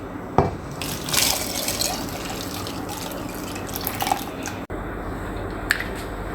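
Thick mixture of oats and coconut milk for Jamaican porridge poured into a pot, a steady liquid pour with soft splashing and a few drips, close and moderately loud, no voices.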